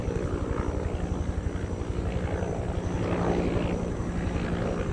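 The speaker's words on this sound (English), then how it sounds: "there's a helicopter that's coming down here, very low and close" Helicopter flying low and close overhead at night near the water, a loud steady rotor drone with rhythmic blade chop dominating throughout.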